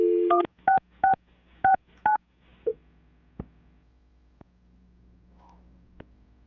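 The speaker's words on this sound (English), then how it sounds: "I'm going to dial the phone number right now" A telephone number is dialed: a short tone sounds, then five distinct touch-tone beeps follow at an uneven pace, leaving a few faint clicks and a quiet line afterward.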